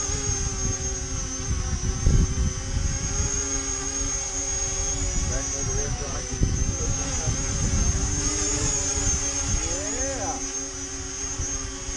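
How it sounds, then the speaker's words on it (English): An E-flite Convergence RC plane hovering in strong wind, its electric motor whining steadily and shifting pitch over rough, buffeting wind noise throughout. "It flies like a brand new plane out of the box."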